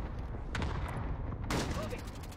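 Gunfire in the video game Warzone, a dense stretch of rapid shots and bursts that stays loud throughout, with a sharper burst near the end.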